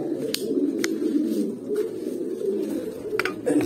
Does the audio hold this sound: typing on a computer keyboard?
no